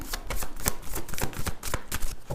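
Tarot cards are shuffled in quick, rapid riffling bursts, a dense papery flutter with short pauses between handfuls, close up and with no voice.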